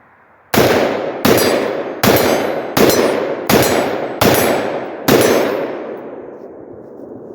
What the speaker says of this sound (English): Let's blast off a couple of rounds with this.